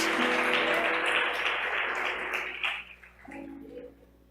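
A church congregation claps together in a sustained burst of applause that gradually thins and fades, with a low hum underneath and a few scattered claps near the end.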